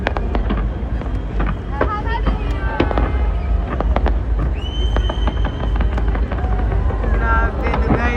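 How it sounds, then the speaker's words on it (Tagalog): New Year fireworks burst in front of the Burj Khalifa in Dubai, with rapid crackling pops and whistling rockets over a loud, noisy crowd and wind noise. "I will let you see and hear what was it like watching the fireworks in"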